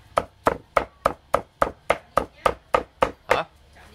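A knife rhythmically mincing bones on a board for a Vietnamese salted bone dish: about a dozen sharp, evenly spaced chops, close and loud, with no talking.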